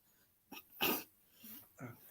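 A single sharp sneeze bursts out close by, preceded by a quick intake of breath and followed by a soft sniff.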